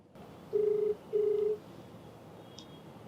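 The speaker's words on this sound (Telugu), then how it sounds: "తప్పకుండా మరి నెంబర్ ఇచ్చారు, కాల్ చేస్తానండి." A telephone call being placed, with two steady ringback tones, each about half a second long, clear over a quiet background, followed by a faint brief beep.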